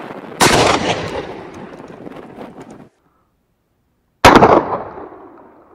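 A Derya Arms N100 shotgun fires two loud, close shots several seconds apart. Each sharp blast is followed by a rumbling tail that fades away, with silence between the shots.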